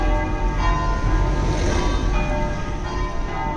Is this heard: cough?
no